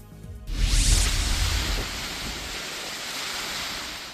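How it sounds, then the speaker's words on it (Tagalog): Roaring typhoon wind and crashing waves in Taiwan surge loudly, then settle into a steady rushing roar. "Binayo ng malakas na hangin at ulan ang mga punong yan sa Taiwan."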